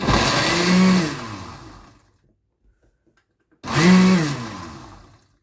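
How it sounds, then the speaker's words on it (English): Two loud pulses from a blender on its ice breaker setting crushing a peach yogurt smoothie with ice, each a whirring motor burst of about two seconds that rises in pitch, separated by a short silence. "Then when I blend it, I'm going to blend it on the ice breaker. I pulse it"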